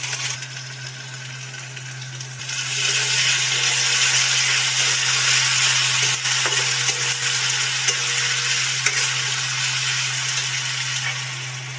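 Onions frying in a pan with ginger-garlic paste for rice masala khichdi, a steady broadband sizzle that grows louder after a couple of seconds, with scattered clinks and scrapes of stirring. No talking.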